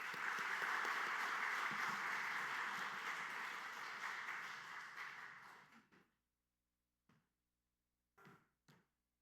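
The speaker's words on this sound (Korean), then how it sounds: "이제 말씀 전해주실 황원영 목사님 강단을 모실 때 뜨거운 박수로 영접하도록" A church congregation gives warm applause welcoming the pastor to the pulpit, dense clapping from many hands that fades out, followed by a few scattered, isolated claps.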